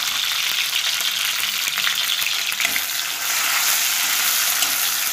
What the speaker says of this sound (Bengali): পেঁয়াজ টমেটোটাকে একটু তেল দিয়ে ভেজে নিচ্ছে।